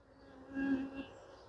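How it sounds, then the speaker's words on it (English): Bees buzz around a laid-up hive frame in a nuc, a soft droning hum that swells briefly in the middle and stays faint and close, with no voices over it. "So these bees have done an amazing job."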